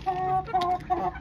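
Hens clucking up close in three short bursts of harmonic, nasal calls with brief gaps between them, no talking; the birds are six-month-old chickens being given fattening feed.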